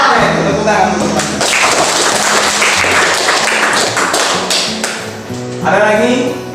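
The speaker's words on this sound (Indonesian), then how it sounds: "tepuk tangan untuk Pak" Applause for a speaker in a classroom session, loud close clapping mixed with sharp taps and thumps that lasts several seconds, while voices carry on underneath.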